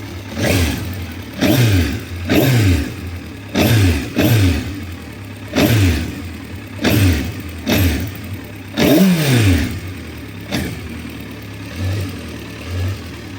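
A 2003 Suzuki GSX 1400 motorcycle with 29,000 km revs in repeated short throttle blips over its engine note, about nine loud, close rises and falls in steady rhythm.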